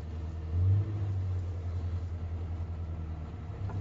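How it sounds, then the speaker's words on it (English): A Morris Minor engine runs during a driving lesson, a low rumbling drone that swells briefly early on and then holds steady and close. "Rev the engine."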